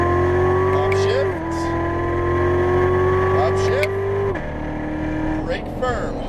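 A Chevrolet Corvette Z06 Stingray powers around a race track at Exotics Racing Las Vegas, its loud engine climbing steadily in pitch between gear shifts while an instructor talks over it.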